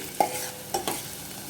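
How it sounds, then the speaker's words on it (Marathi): Chopped onion sautéing in a pan for tomato soup, a faint sizzle with two or three quick spoon scrapes and taps against the pan, brief and close, no voices. "त्यानंतर कांदा घालून घेणार आहे. साधारण अर्धा मिनिट परतून घेते."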